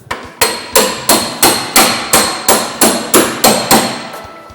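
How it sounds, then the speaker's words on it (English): About a dozen sharp, evenly spaced metallic hammer blows drive a chisel between two layers of old car body sheet metal, each ringing strike close and loud with short decays, no talking. "running that chisel right down between two pieces of metal"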